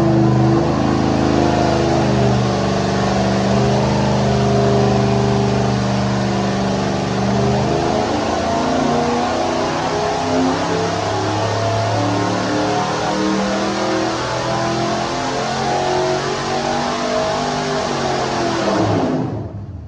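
A loud 355 small-block Chevy V8 on a dyno roars and climbs steadily in pitch under heavy load, holding a sustained run before cutting off abruptly at the end.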